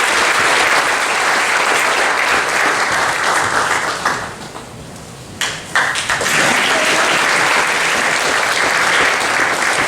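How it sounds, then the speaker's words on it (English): Mourners at a celebration of life break into loud, sustained applause that thins briefly to scattered claps before swelling again into full clapping. "Big round of applause."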